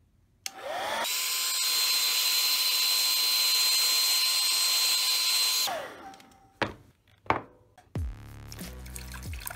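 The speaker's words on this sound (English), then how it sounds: "Get your hairdryer and melt the wax." A hair dryer whirs up to melt candle wax on a shoe, blowing with a loud, steady roar for several seconds, then winds down, followed by a few clicks and handling noises.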